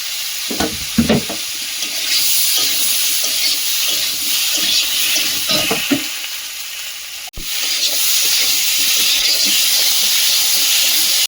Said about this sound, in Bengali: সবজিটা হাফ ভাজা হয়েছে এবার কড়াইশুটি দিয়ে দেবো